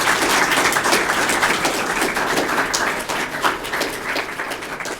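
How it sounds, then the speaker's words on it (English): A high school audience gives veterans a round of applause at a Veterans Day presentation, loud, close, dense clapping from many hands with some individual sharp claps standing out, sustained throughout. "if we could give a huge round of applause to our vets."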